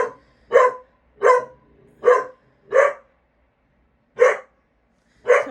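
Dogs barking at a passerby, seven loud, close barks in an uneven rhythm with longer gaps toward the end.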